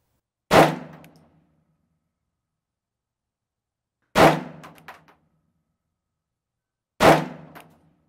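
Three loud pistol shots fired while zeroing an optic on a range, each a sharp separate report with a short decaying echo and several seconds of silence between them.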